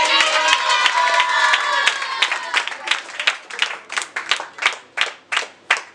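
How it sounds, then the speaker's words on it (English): Applause from a classroom audience at an English-practice role-play: dense clapping first under a few voices, then thinning into slower, separate hand claps from a small group, close by. "So let's have a huge round of applause."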